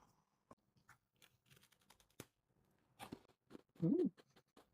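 Crunchy walnut bread with a crisp crust and crunchy nuts is chewed close up in a quiet room, a run of soft crackling bites that builds to one louder crunch near the end, with no talk.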